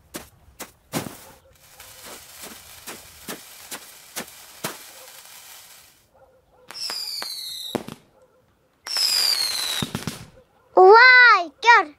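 New Year fireworks burst outdoors in a run of sharp, loud cracks and bangs, followed by hissing, whistling and crackling bursts, with gaps of quiet between them and a shout or cry near the end.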